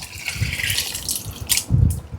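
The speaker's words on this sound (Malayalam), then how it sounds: "1 കപ്പ് ചൂടുവെള്ളം കൂടി ഈ കുക്കറിലേക്ക് ഒഴിച്ചിട്ട്" Hot water is poured into a pressure cooker holding dal, giving a close, continuous splashing gush that swells into a louder burst near the end, with no voices.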